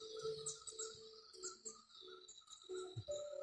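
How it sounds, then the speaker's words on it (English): Birds sing in trees outdoors, several overlapping chirps and whistled calls repeating close by, fairly faint, with no voices. "The birds are shouting, singing the song."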